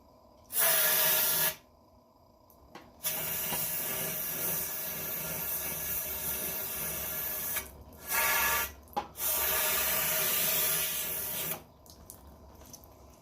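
Brake cleaner sprays onto a 1996 Honda Magna's fork area in loud hissing bursts: one short blast, a long sustained spray, then two more quick bursts in a garage setting.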